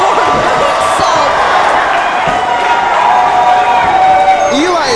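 A wrestling crowd cheers loudly and continuously during an independent wrestling TV match, a dense roar of voices filling the arena with a commentator talking over it.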